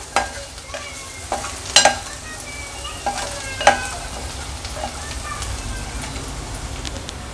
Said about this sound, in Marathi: तेलावर मसाले छान शिजवून घ्यायचे आहेत आपल्याला